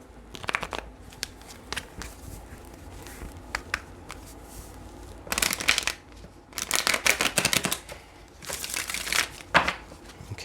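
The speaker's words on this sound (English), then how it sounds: "Let's get one more shuffle." Tarot cards are shuffled in several quick riffling bursts, crisp and close, separated by short pauses with small handling sounds.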